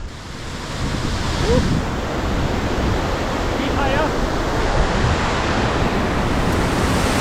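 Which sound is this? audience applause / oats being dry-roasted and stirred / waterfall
waterfall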